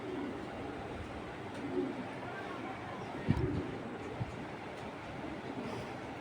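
Fancy breed pigeons, including black checker dopas, give faint, low, intermittent coos in their loft beneath a steady background hum.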